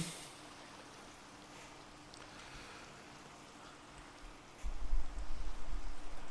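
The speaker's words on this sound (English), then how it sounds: "Oh, probably because it's still raining." Steady hiss of Minecraft rain fills the scene, with a heavier rumbling wash rising near the end.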